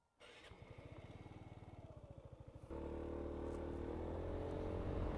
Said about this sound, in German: Ich bin heute wieder unterwegs auf der Piaggio Beverly 350 Police.